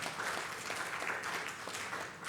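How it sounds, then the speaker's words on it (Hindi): Crowd applause for the desi cow at a village launch event, a steady dense wash of clapping lasting a couple of seconds at moderate distance, with no clear voices above it. "एक बार जोरदार तालियां"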